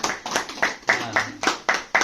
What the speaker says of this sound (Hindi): मैडम के लिए जोरदार ताली होना चाहिए।